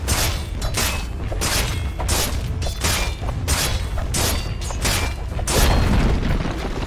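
Repeated heavy booms and thuds roll in steady succession as a tower is destroyed in the video game Dota 2 during pro league play, loud and continuous with no talk.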